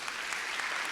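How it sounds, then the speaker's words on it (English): Brief burst of applause from a conference audience thanking a professional development roundtable panel, a dense clatter of clapping lasting under a second. "Can you give them a round of applause?"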